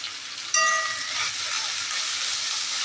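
Paneer chilli with tomato and spring onion being stirred over a high gas flame in a big pot, a sudden loud sizzle with a brief metallic clink, then a steady frying hiss close by.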